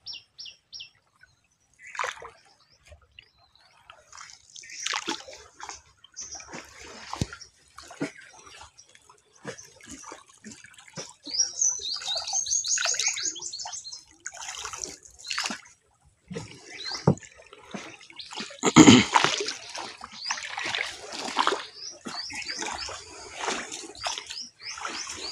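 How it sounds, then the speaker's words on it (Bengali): Oars dip and pull through the water of a narrow Sundarbans canal at rising tide, giving irregular close splashes and drips that grow busier and louder toward the end, with faint bird chirps in the background. "নৌকার চালানোর পানির শব্দ শুনতে পাচ্ছেন"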